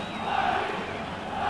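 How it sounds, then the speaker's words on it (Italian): A football stadium crowd at a Bari–Lecce Serie A match in 1990 applauds at length in tribute, a distant, muffled roar of thousands of spectators with a faint vocal edge. "lo stadio si è unito in un lungo, calorosissimo applauso per ricordare"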